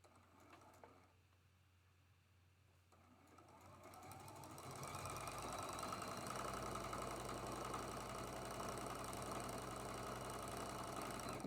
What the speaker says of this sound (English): We got 4 more half square triangles to sew together